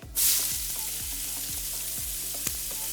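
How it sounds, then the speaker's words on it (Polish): Steady, loud sizzling of vegetable side ingredients frying in a hot pan with leftover oil after shrimp, with a burst of spitting oil at the start and faint rhythmic clicks underneath. "w tej samej patelni, to zobaczysz, gdzie mam jeszcze trochę ten olej"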